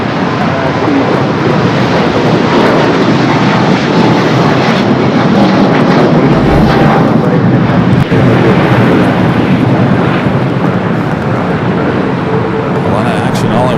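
A KLM jet moves along runway 25 right at Los Angeles International Airport with a loud, continuous engine rumble and roar that stays fairly even throughout, heard alone without voices.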